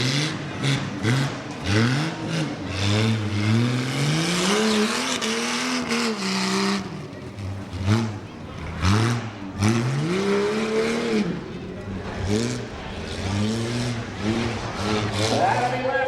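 Rough trucks race a lap at the Columbiana County Fair, engines roaring and revving up and down continuously, with rising and falling pitch as vehicles accelerate, loud and close, with tire noise and crowd ambience mixed in.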